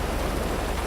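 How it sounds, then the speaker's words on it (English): Heavy rain pouring in a police-patrol video game, a dense, continuous hiss of drops pelting surfaces and splashing into forming puddles, steady and close with no voices. "You see the puddles starting to form because of how heavy the rain is."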